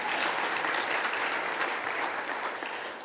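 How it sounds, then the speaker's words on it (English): Audience applause at a conference opening ceremony in Athens, Ohio, dense and steady clapping from a large crowd that fades slightly at the end, heard on its own. "yeah, that's a good reason to applaud"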